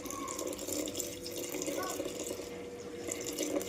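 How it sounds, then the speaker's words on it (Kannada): Water poured into a pot of Malnad-style mutton sambar with ground masala, a continuous splashing, trickling flow heard up close with a voice talking faintly beneath. "ಈಗ ಇದಕ್ಕೆ ಸ್ವಲ್ಪ ನೀರು ಹಾಕ್ತೀನಿ."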